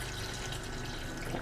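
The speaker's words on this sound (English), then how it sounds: "we're going to add in 5 cups of our filtered or spring water," Filtered water pours steadily into a blender in a continuous, even rushing splash with no pauses and no voices.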